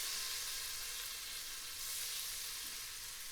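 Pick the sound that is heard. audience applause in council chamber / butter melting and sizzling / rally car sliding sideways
butter melting and sizzling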